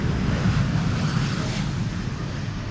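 An Air Europa Boeing 787-9 Dreamliner takes off from Amsterdam's Polderbaan runway toward Madrid, a loud, steady, broadband jet roar holding throughout with a gusty rushing edge and no one talking.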